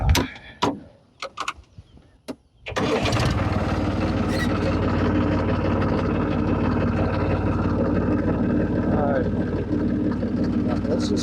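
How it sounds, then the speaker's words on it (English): Idle and voices come first, then a tractor with an Alamo bush hog mower towing two drags roars up to a loud, steady engine drone that continues throughout. "I'm gonna have the Alamo bush hog going"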